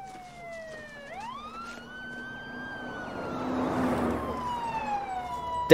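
A wailing ambulance siren sweeps up and down in pitch, growing louder as it approaches, with traffic rumble underneath.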